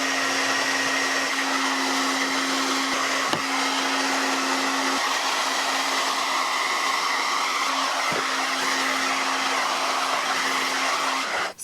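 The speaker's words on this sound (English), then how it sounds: "putting the brush underneath, and blow drying it as you comb through." A hair dryer blowing steadily while hair is brushed and blow-dried, a constant close whooshing hum with a few brief clicks and pauses, no talking.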